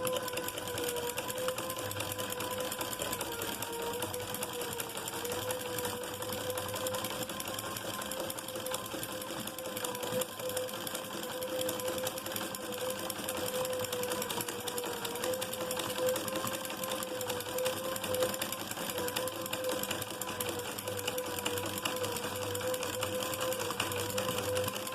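A sewing machine stitches a garment, a steady, continuous mechanical whir with a fine rapid needle rhythm that runs unbroken and fairly faint throughout.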